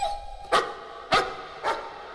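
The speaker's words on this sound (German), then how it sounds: "Was für ein Hund?" Three sharp, loud dog barks spaced evenly about half a second apart, heard alone in a dark horror video game, Layers of Fear, with a faint steady tone beneath.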